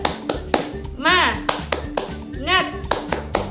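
A preschool group cheer with sharp handclaps in a repeating pattern, close and loud, broken twice by a sung chanted phrase between bursts of clapping.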